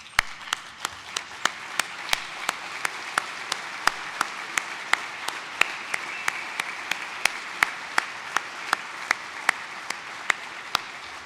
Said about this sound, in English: please stand, give yourselves, and our friends still deployed working, a round of applause for a job well done so far